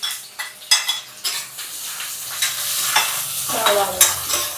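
Sliced onion fries in hot oil in a pan with a steady sizzle, broken by repeated scraping strokes of a spoon stirring against the metal, close and clear with no talking.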